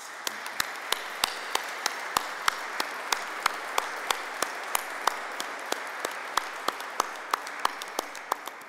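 A church congregation at an Easter vigil gives sparse, rhythmic applause. The claps ring out sharp and evenly spaced in a reverberant hall with a quiet hum underneath.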